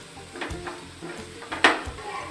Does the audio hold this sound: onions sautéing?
yes